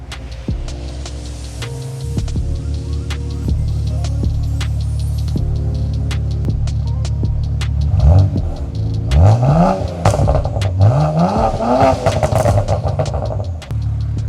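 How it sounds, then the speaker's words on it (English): A BMW 335xi engine idles loudly, then revs hard in several rising bursts, climbing high toward redline before dropping back, close by with no talking. "I heard this thing redlining out here."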